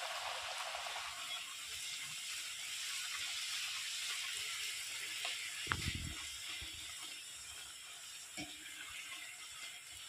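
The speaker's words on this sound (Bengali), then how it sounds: "এইভাবে আমি সমস্ত লুচিগুলো ভেজে নেব।" Luchi puff and fry in hot oil with a steady, soft sizzling hiss, punctuated by a brief clink of a utensil near the middle.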